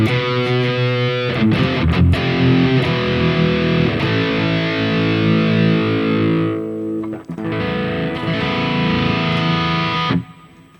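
Distorted electric guitar chords through the hall reverb of a Harley Benton DNAfx GiT Pro modeling unit ring out with a long, spacious tail, sustaining loudly, briefly cutting off and then returning before fading.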